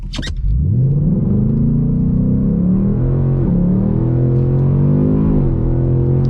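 A 2022-2023 Ford Mustang GT Premium with 10-speed automatic in track exhaust mode, launching from idle and accelerating hard toward 60, a loud continuous engine roar rising in pitch with brief dips at gear changes.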